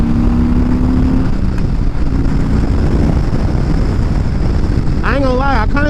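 A Harley-Davidson Road King rumbles steadily and loudly while being ridden, with heavy wind buffeting throughout. A voice briefly breaks through near the end.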